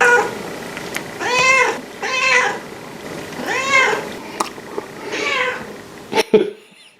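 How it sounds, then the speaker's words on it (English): A cat meows several times in drawn-out, wavering cries in a fan film, fairly close, with a couple of sharp knocks near the end. "There's a cat in here?"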